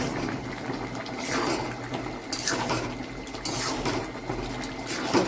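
Fish cooking in a pan as lots of water releases from it, a steady close hiss and watery bubbling with soft sizzling swells throughout, no talk.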